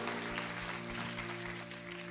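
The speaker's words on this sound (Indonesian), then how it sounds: "Tepuk tangan sekali lagi" Applause from a church congregation during a sermon service in Jakarta, a broad steady patter of many hands sustained at moderate level throughout, with low organ-like hum underneath.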